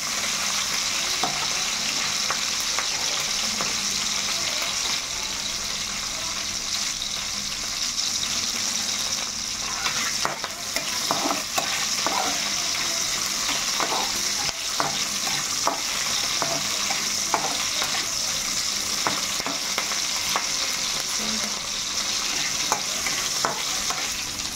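Tomato fries in a pan with continuous sizzling, while a utensil scrapes and stirs it in scattered clicks and scrapes. The sound is close and steady, with no talking.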